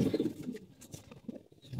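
Low, throaty cooing from a flock of kept pigeons in their loft at night, steady murmuring calls close by with no talking over them.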